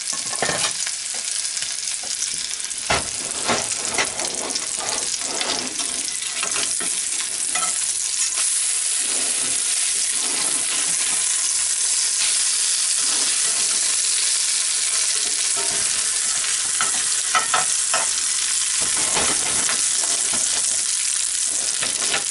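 A Monte Cristo sandwich fries in a pan like French toast, giving a loud, continuous crackling sizzle that holds steady for over twenty seconds, close and unbroken by talk.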